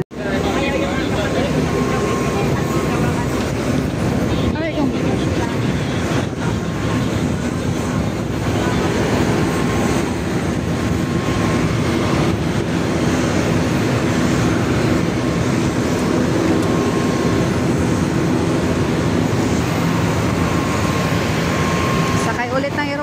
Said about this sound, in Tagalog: Sakay ulit ng eroplano